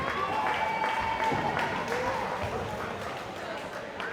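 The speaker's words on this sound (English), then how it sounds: "As the cheerleaders get the crowd rallied up for this last 25 seconds." Crowd at a high school girls' basketball game in the final seconds, with cheerleaders rallying fans: steady applause, cheering and rhythmic stomping in a gym, with a commentator talking over it.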